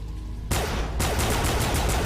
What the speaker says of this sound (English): Let's just pull my gun and shoot.